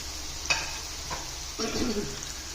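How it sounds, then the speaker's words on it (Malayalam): Sliced onion and curry leaves sizzle in hot oil for okra thoran, with a few close utensil scrapes and taps as the pan is stirred over a steady frying hiss. "നമ്മുടെ സബോളയും ഇട്ട് കൊടുക്കാം വേപ്പില ഇട്ട് കൊടുക്കാം"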